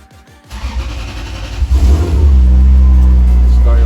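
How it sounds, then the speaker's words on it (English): A Toyota Supra MK4 engine cranks and fires up after a fuel pump install, settling into a loud, steady idle close by following a brief quiet start. "So now turn the car on."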